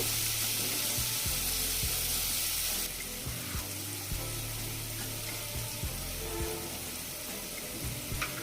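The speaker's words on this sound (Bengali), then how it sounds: "গাজর আর বাঁধাকপিগুলো নেড়ে চেড়ে একটু ভেজে নিচ্ছি" Chopped cabbage and carrot stir-fry in a hot pan for vegetable noodles, a dense continuous sizzle close by with repeated scraping knocks of a spatula turning the vegetables.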